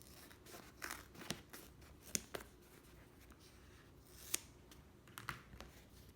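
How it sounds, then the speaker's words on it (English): Quiet, close snipping of scissors cutting foam: irregular short cuts and crunchy rustles through the soft material, with pauses between strokes. "Then we're just gonna cut around the outline so we get our backing."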